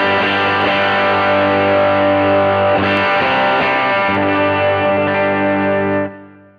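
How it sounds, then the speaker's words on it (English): An electric guitar through a Helix Princeton Reverb amp model with its gain pushed up plays a sustained, saturated chord strummed loudly and richly, holding steady before cutting off near the end, with no talking. "We have a button assigned to gain up the amp."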